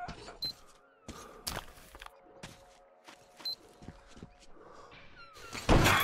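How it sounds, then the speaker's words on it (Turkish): A door opening in the Metro Exodus video game, heard as a series of heavy mechanical thunks and creaks spaced out over several seconds, closing with a louder clanking burst, fairly close in an otherwise quiet scene. "şimdi kapı açıldı."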